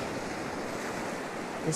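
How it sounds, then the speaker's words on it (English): Sea water crashes over coastal rocks in Queensland, Australia, heard as a steady broad roar of surf and wash with wind noise, continuous and fairly loud, no distinct individual breaks, and no talk. "All this water crashing over the rocks here."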